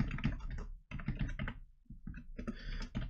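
Typing on a computer keyboard with a sticking key during a Unity game-development session, bursts of close, rapid clicking with a short pause midway before the keystrokes resume.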